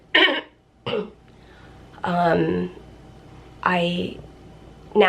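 A person who is unwell coughs twice in short, sharp bursts up close, followed by speech from the same voice.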